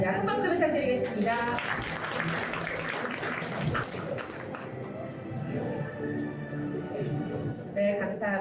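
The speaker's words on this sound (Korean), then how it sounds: "큰 박수 부탁드리겠습니다." Audience applause at an inauguration ceremony for a citizens' media-monitoring group, a dense, steady wash of many hands clapping that holds at an even level throughout, with a faint voice surfacing near the end.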